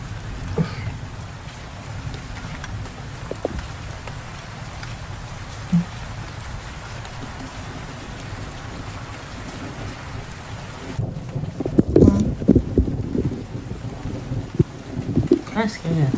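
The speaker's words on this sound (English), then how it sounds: "I know it's raining," Steady rain falls during a stormy spell with tornado concern, a dense continuous wash of drops heard close by, turning louder and rougher toward the end with heavier bursts.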